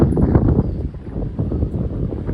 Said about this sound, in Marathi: काय मस्त वारा येतो आहे एकदम भारी